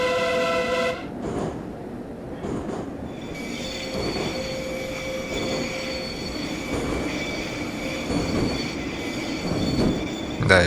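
A metro train rolls through a tunnel in the Garry's Mod subway simulation, its wheels squealing in long sustained high tones over a steady rumble, loud and continuous throughout with no talking.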